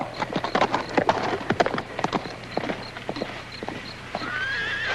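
A horse whinnies while hooves clop in a quick, uneven rhythm close by, with faint background noise.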